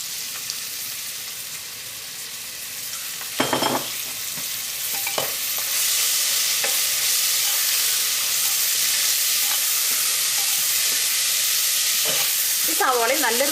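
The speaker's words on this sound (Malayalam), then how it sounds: "ഇനി നമുക്ക് ഇതിലേക്ക് സവാളയും പച്ചമുളകും ചേർക്കാം." Onion and green chillies hitting hot butter in a pan after fried cashews, a loud steady sizzle that builds and continues, with a few utensil clinks and scrapes along the way.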